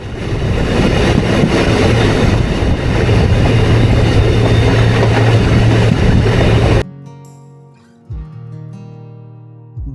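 A moving train rumbles loudly from inside a carriage during rain, a steady rolling roar with clattering wheels, which cuts off abruptly to near quiet with a few soft knocks.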